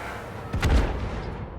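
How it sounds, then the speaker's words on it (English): Seeker missiles striking a ship's shields in the space game Elite Dangerous, heard as a single booming impact that rises sharply and then trails off. "Exactly the same happens when we attack shields with our seeker missiles."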